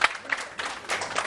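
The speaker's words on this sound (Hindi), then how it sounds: "तालियां अब्दुल्ला के लिए।" A studio audience on a Pakistani morning show claps for a guest named Abdullah, a short burst of applause that swells and dips in waves, fairly close and unaccompanied by talk.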